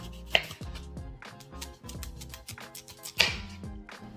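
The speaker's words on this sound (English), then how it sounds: "So you're just going to cut around, removing the outer skin." A knife cuts around the thick outer skin of raw yuca for a Nicaraguan vigorón, giving repeated soft chopping knocks on a board with two sharper taps, close and moderately quiet, no talk.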